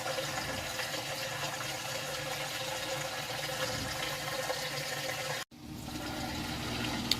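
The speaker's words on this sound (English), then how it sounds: "I got my drain back there. It's draining out." A Whirlpool Cabrio top-load washer drains its water in a steady, low, rushing gurgle, quiet and continuous, cutting out briefly near the end before resuming.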